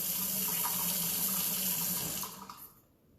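Water runs steadily from a tap onto a makeup removal cloth at a sink, a continuous close splashing stream that fades and stops near the end.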